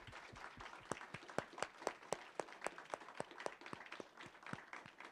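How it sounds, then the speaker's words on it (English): Audience applause for a panel at a Clean Slate record-clearing event, sparse and faint with distinct individual claps in an uneven patter. "So please join me in a round of applause for our fantastic panel."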